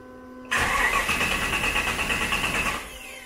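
A Mazda RX2 with a swapped L83 engine cranks for a couple of seconds, loud and close, with a rapid pulsing starter churn before the sound cuts off without catching.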